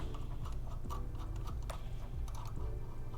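A ratchet on a 6mm hex bit with an extension works loose an exhaust bolt on a Ducati Panigale V4, giving quick scratchy clicks and ticks over a steady low hum in a workshop.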